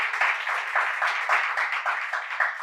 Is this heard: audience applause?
yes